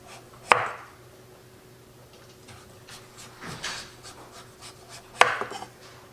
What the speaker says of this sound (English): I'm going to cut the neck off.